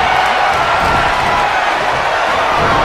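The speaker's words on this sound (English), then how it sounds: "The sound of this crowd is deafening, and he's asking for more." A dense, continuous crowd roar of cheering at a wrestling match in the video game WWE 2K23 fills the whole stretch at a steady, loud level with no pauses.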